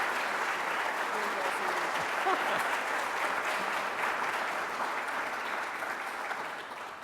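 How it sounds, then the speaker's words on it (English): A civic audience at a State of the City address gives a warm, sustained round of applause, a dense wash of clapping that slowly fades toward the end. "So a final round of applause for her"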